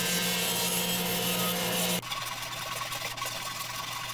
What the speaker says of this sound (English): This is 3/4 inch plywood. Same thing. Sliding table saw makes this very easy.